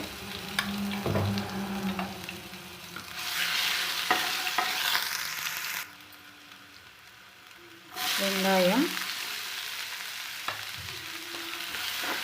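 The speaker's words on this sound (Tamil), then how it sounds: "கடுகு நல்லா பொரிய விடலாம். கருவேப்பிலை, இஞ்சி பூண்டு பேஸ்ட்டு," Mustard seeds, curry leaves and ginger garlic paste frying in hot oil, a steady loud sizzle with stirring scrapes, briefly dropping quieter before surging back with fresh crackle.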